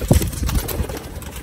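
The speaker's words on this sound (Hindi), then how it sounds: "छत वाले कबूतर प्योरिटी दे विच" Sialkoti roof pigeons, a pure-bred rooftop breed, make a couple of short, low cooing pulses close by, mixed with light scuffing sounds, in a brief burst without speech.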